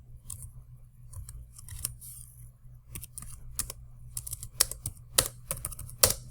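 Clicky typing on a computer keyboard, entering math expressions with shift-key combinations, in uneven bursts of keystrokes over a low steady hum, growing busier toward the end.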